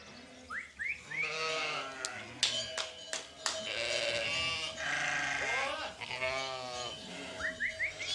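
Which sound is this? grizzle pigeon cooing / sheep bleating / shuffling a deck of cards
sheep bleating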